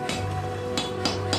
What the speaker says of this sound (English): use a set of dies underneath the hammer to create that central ridge